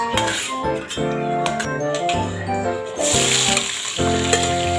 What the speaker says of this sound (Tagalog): Isunod nyo na pong ipirito yung patatas at saka po yung carrots.